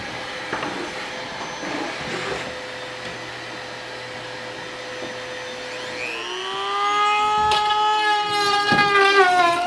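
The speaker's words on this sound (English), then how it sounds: "Now we just have to vacuum up a million bits of foam." A vacuum cleaner runs steadily, sucking up loose bits of routed foam in a boat-building workshop; its pitch shifts and rises partway through as the intake chokes and clears.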